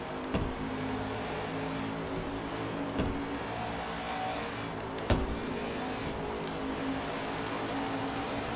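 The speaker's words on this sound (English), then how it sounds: "Really hear him working the throttle quite a bit in the middle of the corner as well." Race car engine from the NASCAR 21: Ignition video game at Dover, a steady droning roar with the throttle worked on and off mid-corner, broken by a few sharp clicks and bumps.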